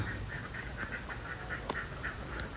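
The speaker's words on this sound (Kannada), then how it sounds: "ಇಲ್ಲಿ ಬಾತುಕೋಳಿ ಫಾರ್ಮಿಂಗ್ ಮಾಡ್ತಾರೆ" Ducks quack in repeated nasal bursts, several birds calling on a duck farm in Alleppey, Kerala, over a steady low background rumble, moderately distant and continuous.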